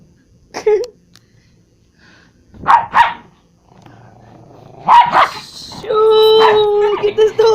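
A dog barks loudly and repeatedly in bursts, close by, with sharp barks and a drawn-out, howling yelp near the end, while people talk and shout around it.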